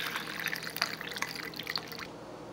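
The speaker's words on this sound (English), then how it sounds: "now let's just pour out the bowl" Miso soup made with jelly beans is poured from a pot into a bowl, giving a quick run of splashes and drips that stops abruptly after about two seconds. No talking.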